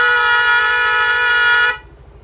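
A loud, steady horn on a Yamaha Mio Fino fuel-injected scooter blares for about a second and a half, then cuts off, leaving a low idling hum.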